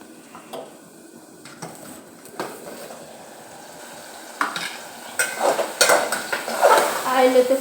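Food fries in oil in a pan. A quiet background hiss builds into busier clatter and sizzling, with utensil knocks growing louder and more frequent toward the end.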